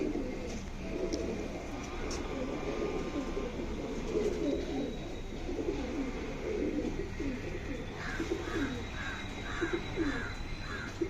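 Karnapura pigeons for sale in Tiruvannamalai coo in low, repeated rolling phrases, with several birds calling close by and overlapping against steady background noise.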